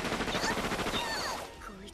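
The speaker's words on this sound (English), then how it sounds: "And now we can finish this off with a rocket launcher" A rocket launcher fires in Megadimension Neptunia VII, with loud rapid gunfire-like bursts across the first second and a half before the sound fades, and game effects layered underneath.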